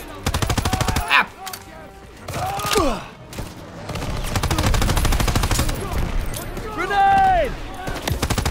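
Sustained rapid gunfire and machine-gun bursts in Call of Duty, loud and close, with whooshing effects and voices talking over the shooting.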